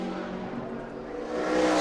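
A NASCAR race car at 2010 qualifying runs a lap, its engine a steady loud roar that swells and grows louder toward the end, heard alone without talk.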